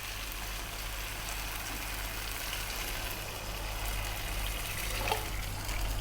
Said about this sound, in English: we're going to add quite a lot of water